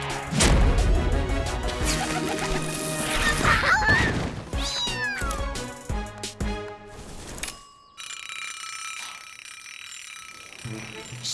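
A cartoon cat meows amid busy animated sound effects, clattering, ratchet-like clicks and music, with the meows standing out over the mix before the action thins out toward the end.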